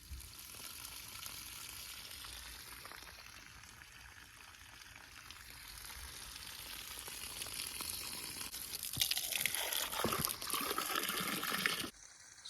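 Water draining from an old water heater through its open drain valve, a continuous hissing, trickling flow that grows louder and more turbulent toward the end before cutting off abruptly.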